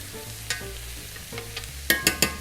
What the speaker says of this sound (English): We're going to give it a little stir